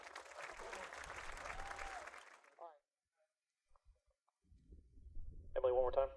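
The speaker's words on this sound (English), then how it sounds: "Give a round of applause." Applause from an audience at a high school band demo fills the first couple of seconds, then fades to near silence before voices and music-like tones come in.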